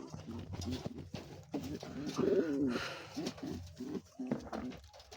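Domestic pigeons coo in low, throaty bursts, repeated several times close by, with some scuffling and other bird calls mixed in.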